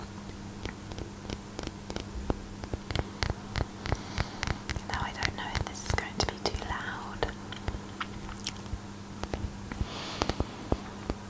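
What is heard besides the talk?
fingernail tapping on a bottle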